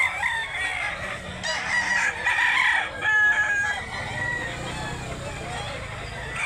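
Roosters crow and chickens cluck on a gamefowl farm, several overlapping crows rising and fading close by while someone talks over the birds.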